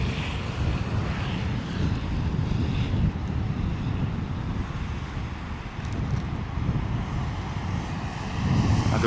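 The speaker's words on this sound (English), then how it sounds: "Like a British Airways Dreamliner departing from 27 left there." A British Airways Dreamliner jet takes off from runway 27 left at London Heathrow in wet, windy weather, a steady distant engine roar blended with heavy wind and rain noise throughout.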